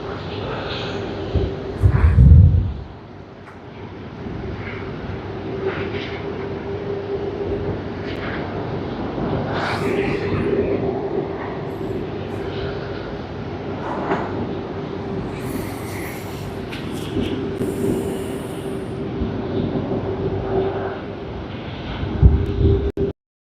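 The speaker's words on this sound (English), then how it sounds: "Sorry, it's Airbus A330-900, not Airbus A350, and both of them are of Malaysian Airlines" A Malaysia Airlines Airbus A330-900 arriving at Sydney Airport from Auckland gives a sustained, distant jet roar with a steady hum under it. Wind buffets the microphone now and then, and no one speaks.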